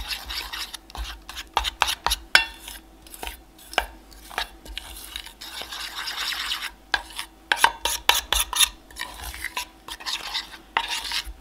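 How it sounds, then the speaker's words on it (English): Homemade stick deodorant paste with the thick, sloppy-clay texture of wet frosting being stirred hard in a bowl: steady scraping and rasping strokes with frequent clacks against the sides, close and alone with no talking. "And you just want to give that a really good mix as well."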